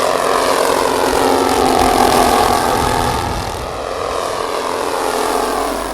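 Propeller engines of a Boeing B-17G Flying Fortress roar steadily at an airshow at La Ferté-Alais, a loud continuous drone with a slight dip in level midway.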